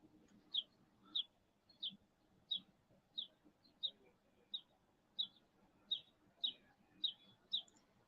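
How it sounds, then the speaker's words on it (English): Birds outdoors near thrown bread give a series of short, high chirps about every half second to second, faint and fairly distant, over a quiet low background murmur. "I'm outside making sure the birds ain't gang banging over this bread and stuff they just threw over there"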